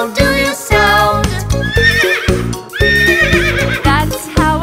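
A horse neighs loudly and close in a rapid series of shrill, wavering whinnies, several in a row with short gaps, in a children's nursery-rhyme song about zoo animals.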